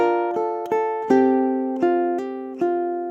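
A ukulele plays a short phrase of about seven notes, each ringing and decaying cleanly with no talking.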